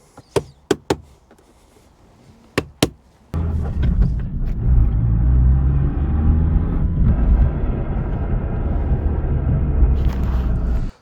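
A Suzuki Swift gearbox with a worn thrust bearing or worn internal bearings starts with a few sharp knocks, then settles into a loud, steady, grinding rumble that continues to the end.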